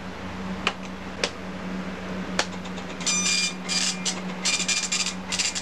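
An Epson FX-86e 9-pin dot matrix printer rattles in bursts: a few sharp clicks, then rapid buzzing print passes over a steady low mechanical hum.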